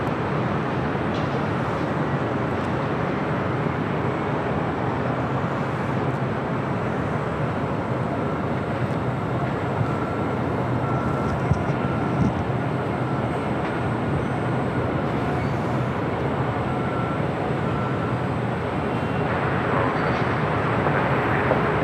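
A Norse airliner on its takeoff roll from LAX runway 25 right, a steady loud roar of jet engines that holds evenly throughout without any voices.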